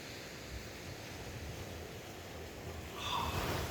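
Sea waves wash onto the shore at Shanklin on the Isle of Wight with a soft continuous roar. Wind rumbles faintly, and a wash swells slightly near the end.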